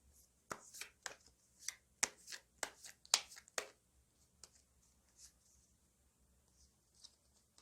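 Tarot cards being shuffled by hand up close, a series of crisp riffling snaps and soft slides in an irregular rhythm, fairly quiet, with faint talk in the background.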